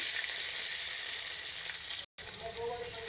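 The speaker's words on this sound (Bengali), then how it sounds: "পেঁয়াজটা ভাজা হয়ে গেছে" Steady, dense sizzling of onions frying in hot oil, close by, with a brief break before the crackle resumes.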